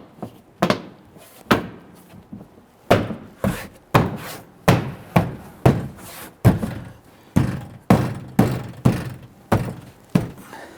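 Trim panel clips on a 2011-2017 Nissan Quest being pressed in around the panel edge: a long series of close, dull plastic thunks and snaps in an uneven rhythm, with no speech.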